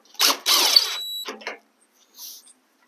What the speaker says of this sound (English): And then go ahead and put the screw back in.